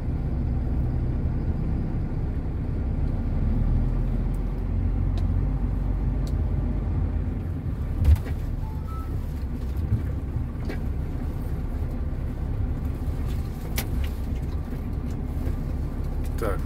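A car pulls away, its engine a steady low rumble heard from inside the cabin, with a soft thump and faint clicks partway through.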